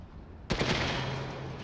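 Machine gun fire in Resident Evil Village: after a short quiet lead-in, a loud, dense burst of automatic gunfire starts suddenly and continues steadily to the end, with no talk.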